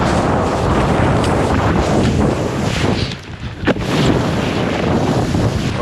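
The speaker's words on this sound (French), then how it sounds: "le vent est vraiment fort." Strong wind blows at a riverside, roaring as broad buffeting gusts against the microphone with a constant rushing hiss, briefly easing once before surging back.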